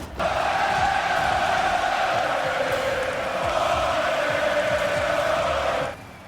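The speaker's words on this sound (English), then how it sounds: "Crowd still going." Steady roar of an esports arena crowd cheering during a playoff match, loud and continuous for about six seconds before cutting off, with no voices standing out above the din.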